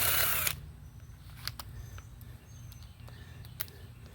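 Power drill working on bolts of a Murray 21-inch push mower, a loud burst at the start then short whirring bursts and clicks of tool and metal, close by with no talking.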